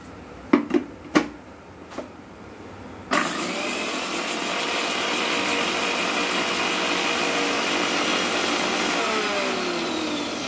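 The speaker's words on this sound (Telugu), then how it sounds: "ఇప్పుడు నేను మెంతులు, ఆవాలు కలిపినటువంటి ఈ మిశ్రమాన్ని నేను మీకు గ్రైండ్ చేస్తాను" A few sharp knocks and taps sound first, then a mixer grinder starts abruptly and runs with a steady, loud whirring roar as it grinds fenugreek and mustard seeds for gongura pickle, holding constant until the end.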